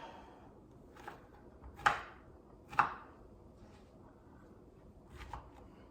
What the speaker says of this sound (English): So I'm just chopping